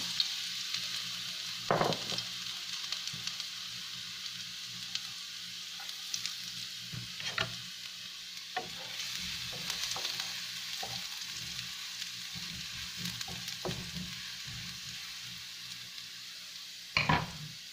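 Garlic frying in about two tablespoons of cooking oil, a steady close sizzle broken by scattered clinks and scrapes of a utensil in the pan, with a sharper stirring clatter near the end.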